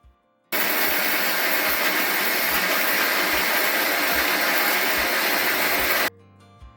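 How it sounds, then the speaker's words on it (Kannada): A mixer grinder grinding moringa leaf chutney powder roars loud and steady for about six seconds, starting and stopping abruptly, heard close with a faint hum before and after. "ಮಿಕ್ಸಿಗೆ ಹಾಕೊಂಡಿದ್ದಾಗಿದೆ."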